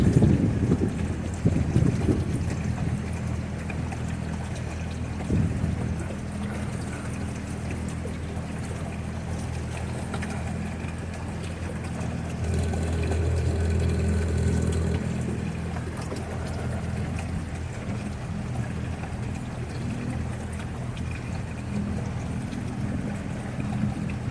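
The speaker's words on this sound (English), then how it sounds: "I have the boat in idle. It's in gear, but I'm in idle" A low, steady boat motor idles in gear while fishing, continuous under wind buffeting the microphone, with no speech.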